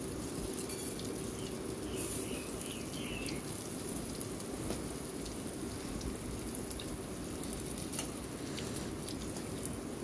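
Lentil and prawn fritters (pakoras) fry in hot oil with a steady, even crackle and hiss that carries on without pause.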